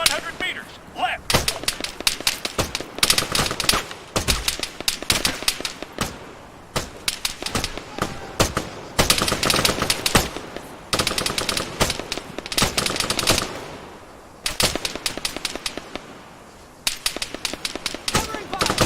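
Bursts of machine gun fire from an Arma 3 military firefight, with rapid volleys and single shots repeating throughout at close range, interleaved with shouted squad radio callouts.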